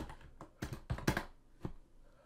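A computer keyboard clicks in a short uneven burst of keystrokes while Java code is typed, several taps bunched together and then a lone final press, close and fairly quiet.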